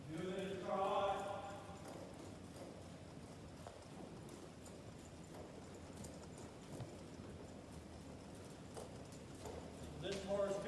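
A horse trotting during barrel-racing practice gives a steady, soft clip-clop of hooves at a distance, faint under room tone, with a voice heard briefly at the start and end.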